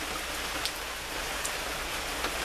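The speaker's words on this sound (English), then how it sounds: "it's raining, you're really coming down now, as you can hear" Rain comes down steadily and heavily outside, a dense, even hiss of drops with a few sharper splats standing out, and nobody speaking.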